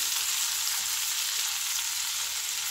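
Minced meat cutlets frying in a pan, an even, continuous close sizzle and crackle of hot oil with no talking.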